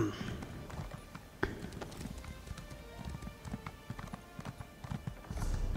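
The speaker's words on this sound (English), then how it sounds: "we'll just hop on our little handy dandy horse over here and get over to our destination" Horse hooves clip-clop at a steady walking rhythm while riding in the Elder Scrolls Online game, with a brief whinny and distinct hoof strikes standing out in the game soundscape.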